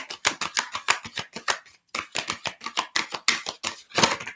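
Large tarot cards being shuffled by hand, a rapid series of crisp slapping riffles in two bursts with a short pause between them, close and fairly loud.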